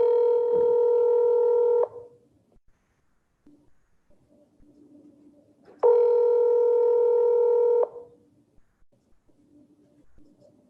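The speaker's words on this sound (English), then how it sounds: "So here goes the phone call." Outgoing telephone call ringing, two long steady ringback tones of about two seconds each separated by a pause, clear and close with faint background noise between.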